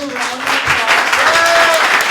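Applause from a panel discussion audience, a dense wash of clapping that swells and holds throughout this short stretch, with a voice briefly audible over it.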